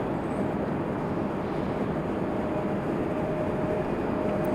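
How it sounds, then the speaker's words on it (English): An Alaska Airlines airliner departing from Raleigh-Durham airport, heard as a steady, broad engine roar that holds loud and constant throughout, with no talk over it. "Alaska Airlines getting a move on."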